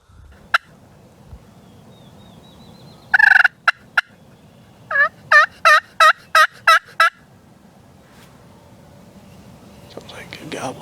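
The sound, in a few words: wild turkey gobbling in the woods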